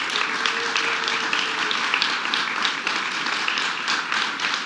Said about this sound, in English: let's give a big round of applause to our governor